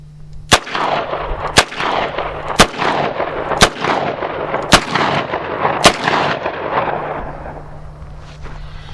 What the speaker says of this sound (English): I'm going to shoot 2 rounds of standard 38, 2 rounds of plus P, and then 2 rounds of